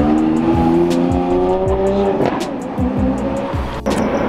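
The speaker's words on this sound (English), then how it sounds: "Oh, I see an Aventador." A Lamborghini Aventador drives along a downtown Los Angeles city street, its loud engine revving up and down in repeated surges with a near, aggressive exhaust note and a sharp tire chirp.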